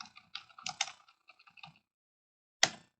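Fingers typing on a computer keyboard: a quick burst of close, crisp key clicks, a pause of silence, then one sharp louder keystroke.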